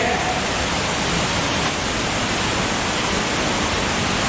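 Underground waterfall roaring steadily inside a cave, a dense, loud, continuous rush of falling water with no breaks from start to finish.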